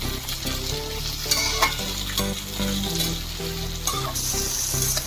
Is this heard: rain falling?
no